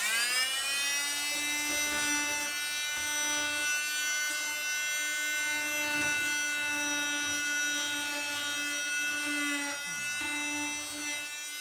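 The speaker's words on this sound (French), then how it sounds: "on va juste enlever ces éclats avec sans appuyer trop fort, avec la ponceuse." A power sander run lightly over the splintered edge of an antique wooden wardrobe door, giving a steady loud whine with a strong tonal hum that holds throughout and dips slightly near the end.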